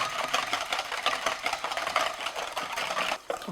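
A hand whisk beats cream in a bowl toward stiff peaks, making a fast, steady, scratchy clatter that runs continuously at low volume with no talking.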